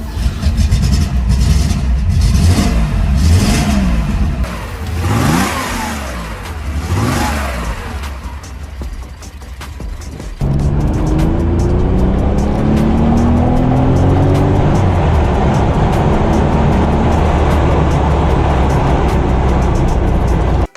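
A 1972 Porsche 911 S Targa with its 2.4-liter flat-six engine revs hard through rising gear sweeps in the Need for Speed Porsche Unleashed game, then settles into a steady loud drone.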